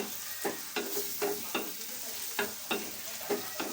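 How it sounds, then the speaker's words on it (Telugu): Ginger garlic paste frying with onions in a pan, heard as a low sizzle broken by about ten regular spatula stirs and scrapes, close and fairly quiet. "ఇప్పుడు అల్లం వెల్లుల్లి పేస్ట్ కొంచెం 1 స్పూను బాగా వేగినాక"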